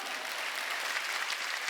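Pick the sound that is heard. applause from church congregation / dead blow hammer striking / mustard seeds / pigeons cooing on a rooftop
applause from church congregation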